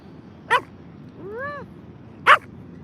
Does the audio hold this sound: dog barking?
yes